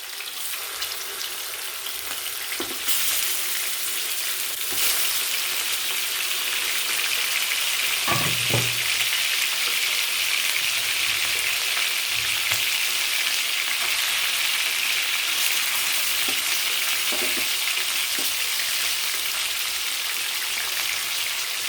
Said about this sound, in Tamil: இதை நான் இப்போ வந்து கொஞ்சம் பொரிக்க போகிறேன் மெதுவாக.